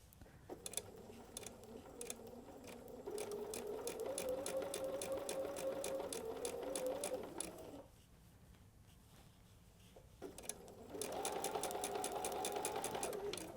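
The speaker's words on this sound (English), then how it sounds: "I'm going to stop, pivot this thing at a 45-degree angle, and sew right to that corner." A sewing machine stitches fabric for foundation paper piecing on a flower block, running in a steady close whir for several seconds, pausing briefly, then starting again with a similar buzzing run.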